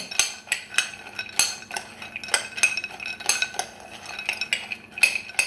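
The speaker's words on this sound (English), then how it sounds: "I've dumped it in there and now I'm stirring" Almonds coated in agave tumble against a bowl as a cocoa mixture is stirred through them, giving a steady run of close, light clinks and scrapes at an uneven rhythm.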